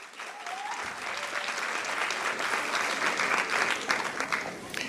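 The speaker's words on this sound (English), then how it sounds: "Another clap for our cheer squad as we have everybody here." An audience at the Lindenwold High School 2023 sports awards applauds a cheerleader, a sustained wash of clapping from many hands that swells slightly and holds for several seconds.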